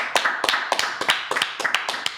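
Applause for podcast guests in a small room: several people clapping close by, with sharp, fairly regular slaps carrying on steadily for about two seconds and no talking.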